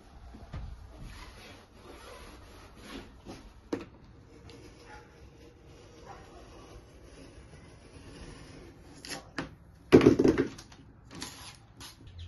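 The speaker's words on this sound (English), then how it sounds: "we're just cleaning the walls of the van with wax and grease remover" Van interior walls being wiped down with wax and grease remover, soft intermittent rubbing and scrubbing strokes with a louder burst of handling noise near the end, no talking.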